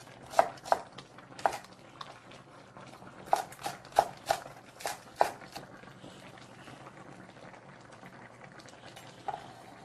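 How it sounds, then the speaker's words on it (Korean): A green onion chopped on a cutting board for braised mackerel: a cluster of crisp knife taps, then a second quicker run of chops, close and fairly clear over a low bubbling background. "마지막에 파 한 뿌리를 썰어서 넣겠습니다"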